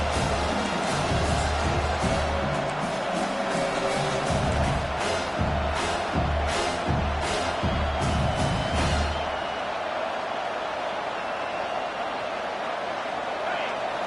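A stadium crowd at a college football game cheers and roars in a dense, loud wash of noise that keeps going, with a few sharper shouts during the first half before it eases slightly.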